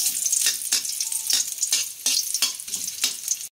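Ginger browns in a little hot oil in a pan: a loud, close sizzle punctuated by regular scraping stirs, roughly every half second, with no talking.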